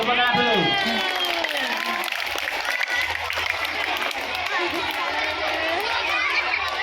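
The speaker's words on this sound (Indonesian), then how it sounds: "Ikuti ya, tepuk tangan dulu." Schoolchildren in a hall at an anti-drug awareness session at an elementary school clap together, a dense continuous patter with young voices calling and chattering over it throughout.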